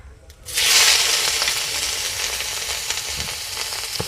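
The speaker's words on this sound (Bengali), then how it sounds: "জলটা এইভাবে ঝরিয়ে মাশরুমগুলোকে ভেজে নিতে হবে" Squeezed mushrooms hit a hot pan and break into a loud, close sizzle that holds steady as they fry, with faint stirring.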